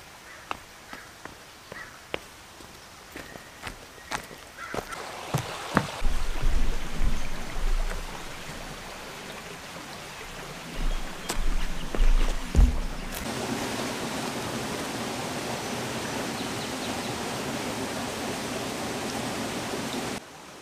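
Creek water flows along a trail, a steady rushing hiss that grows louder partway through and is broken early on by scattered knocks and footstep-like thumps.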